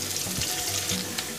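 Small chopped onion frying in oil, a steady wash of sizzle close by with faint soft bumps underneath, continuous and without voices.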